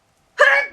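One short, sharp sneeze bursts out of silence at close range, a single abrupt breathy explosion that fades within half a second.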